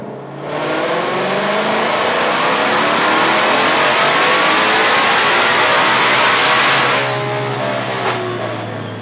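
A 2020-or-later Ford GT500 with a ported supercharger roars through a sustained dyno pull, the engine note climbing steadily for about six seconds before the throttle lifts and it winds down, loud and close with no talking.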